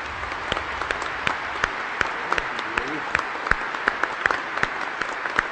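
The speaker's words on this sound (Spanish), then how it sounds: "si ustedes quieren aplaudir con cariño a María Santísima" Congregation at a Catholic Mass applauding in honour of the Virgin Mary, a steady dense wash of many hands clapping in a church, fairly close and sustained throughout with no talk over it.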